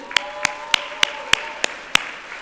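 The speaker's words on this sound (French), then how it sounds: "On l'applaudit." An audience at a philanthropic gala ball welcomes a speaker, with a run of seven evenly spaced, crisp claps standing out over a murmuring room background.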